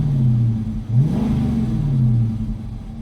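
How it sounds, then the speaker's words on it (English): A 2015 Dodge Charger Hemi V8 with an oil pressure sensor circuit fault revs up from idle, the engine note rising and falling in a loud, close rumble before settling back. "Give it some gas."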